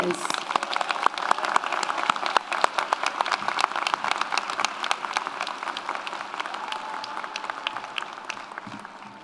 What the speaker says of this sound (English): Please join me in applauding the graduates of the health professions and natural sciences